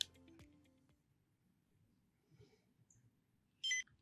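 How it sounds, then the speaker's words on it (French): A short, high electronic beep sounds once near the end against near silence, after a faint click and low background hum, as an electronic magnifier powers on. "Et au bip, la loupe est allumée."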